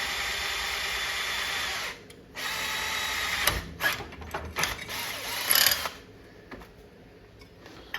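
A power drill bores into a metal bracket for a Satan's Hollow arcade cabinet coin door, with several whirring bursts broken by short pauses and clicks, close and fairly loud.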